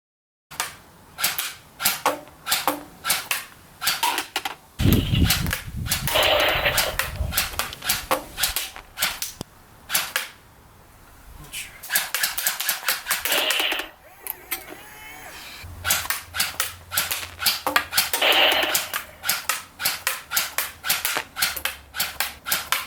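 A Wells M401 electric airsoft rifle fires single shots outdoors in a long series of sharp, snappy cracks with short irregular gaps, plus a few louder bursts of mechanical rattle and rustling between them.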